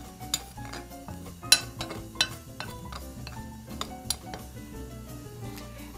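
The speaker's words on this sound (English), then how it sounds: "I'm mixing my dry ingredients all together" Dry ingredients for Maltese village cookies being mixed in a bowl, with irregular light clinks and taps of a utensil against the bowl over a soft background.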